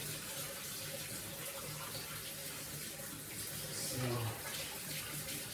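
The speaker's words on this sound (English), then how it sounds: "let me just wash my hands here" Tap water runs steadily into a kitchen sink while hands are washed after kneading kolache dough, a continuous close splashing hiss with a brief surge near the end and a quiet voice speaking over it.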